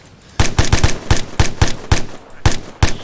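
Rapid gunfire in the military game ArmA 3, about a dozen loud, close shots in quick irregular bursts with no talk.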